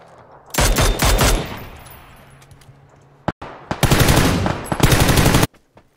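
Automatic gunfire in a shooting video game crackles in two long, loud bursts of rapid shots, with a single sharp shot and brief quiet between them.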